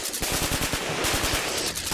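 Rapid, loud automatic gunfire, a steady stream of close, evenly spaced shots that continues without pause.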